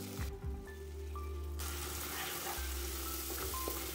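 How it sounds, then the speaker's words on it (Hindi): Tomato onion puree with spices hits hot oil in a pan on medium flame, giving a loud, steady sizzle and crackle close up with occasional stirring clinks. "इसे मीडियम फ्लेम पे ही हमें कुक करना है जब तक कि अच्छी तरह से मसालों से तेल रिलीज ना हो जाए"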